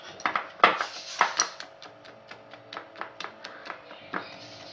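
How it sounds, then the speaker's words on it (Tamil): A spoon mixes idli batter in a bowl for jalebi, giving a steady run of close clinks and wet scrapes against the bowl in a quick, even rhythm. "நல்லா கட்டி இல்லாமல் ஒன்று போல கரைச்சி எடுத்துக்கோங்க."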